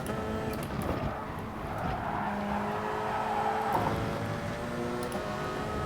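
Race car in GT Sport brakes hard and corners, with a loud steady engine note dropping in pitch, plus a brief tire squeal in the middle, heard alone without talk.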